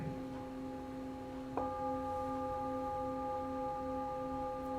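A heart singing bowl gives a steady, ringing drone of layered sustained tones. A soft strike partway through renews the hum, which carries on evenly at low volume.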